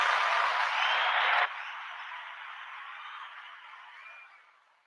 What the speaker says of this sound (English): let's all give Alexa a round of applause for being here